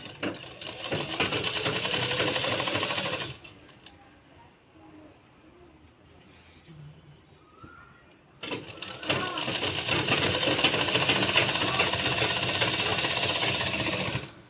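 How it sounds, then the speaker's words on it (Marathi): Sewing machine double-stitching the seams of a blouse, running in loud, steady bursts at close range, stopping for a few seconds of quiet with faint rustling before starting up again. "आता इथं आपण डबल शिलाई मारायची आहे"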